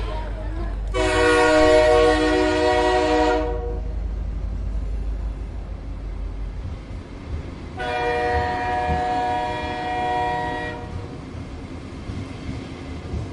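A Sealdah–Kalyani Simanta local train rolls into platform 1A with rumbling wheels, its horn sounding twice in long blasts separated by several seconds of rattling.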